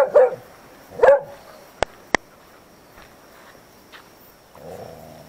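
A dog gives two sharp, loud barks close by, about a second apart, followed by a couple of brief clicks and softer, fainter sounds in a quiet setting.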